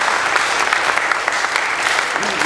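Loud, close applause from students gathered after a campus protest at Howard University, dense clapping that stays steady for a few seconds with a faint voice near the end.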